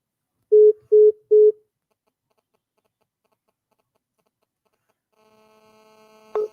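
A telephone call tone sounds as three short, evenly spaced beeps, then silence, followed by a faint rising ringback tone and a brief louder burst at the end.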